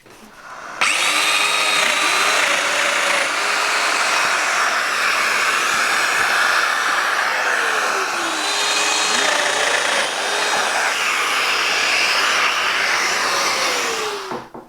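A Festool Domino joiner cuts mortises in a workshop with a steady, loud whining motor and a buzzing, oscillating cutter that runs continuously for several seconds and then winds down.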